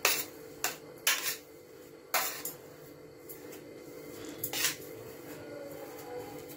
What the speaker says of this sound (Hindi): इसी तरह ग्रीन वाला भी मिक्स कर लेंगे।